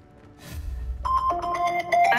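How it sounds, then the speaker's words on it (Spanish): A mobile phone ringtone plays a bright, repeating melodic tone that starts suddenly after a low rumble and continues steadily and fairly loudly, with no voices. "Un momentito, que suena el móvil"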